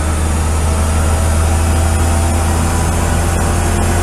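Citroen D Special engine running flat out in second gear on a dyno, a loud, dense, sustained roar with a deep low drone that holds steady and close for the whole few seconds, with no voices over it.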